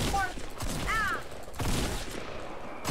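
Gunfire in a Fortnite match, a few loud broadband bursts spread across the clip amid busy game sounds, with a voice briefly heard underneath.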